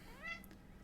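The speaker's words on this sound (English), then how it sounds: "Look at this kitty, she is so cute" A kitty named Scarlett gives one short, close meow, on its own against a soft background hiss.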